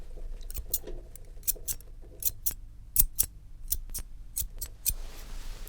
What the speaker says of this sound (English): a pair of scissors at the end of the day